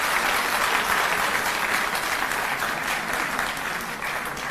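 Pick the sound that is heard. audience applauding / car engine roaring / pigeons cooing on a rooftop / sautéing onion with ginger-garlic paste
audience applauding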